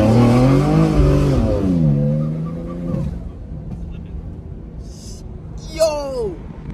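A BMW G80 M3 tuned to about 954 wheel horsepower accelerating hard in fifth gear on an open road in Mexico, its loud engine note climbing in pitch, then easing into a quieter, fading drone as excited voices talk over it.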